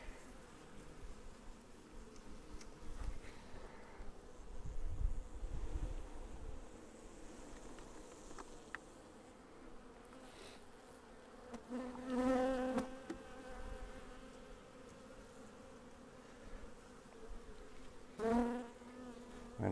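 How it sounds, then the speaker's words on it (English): Honey bees from a swarm being installed into a hive, a continuous close buzzing drone of many bees with occasional louder passes of single bees near the microphone, no speech. "look at just beautiful frames of bees."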